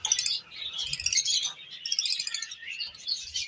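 Opaline lovebirds in a breeding aviary give a continuous stream of shrill, busy chirps and tweets, close and lively, with no talk.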